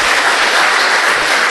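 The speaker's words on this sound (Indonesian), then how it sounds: "bolehlah kita kasih apresiasi tepuk tangan" Loud, dense applause from an audience honouring teachers at an education talk show, steady and continuous throughout with no voices over it.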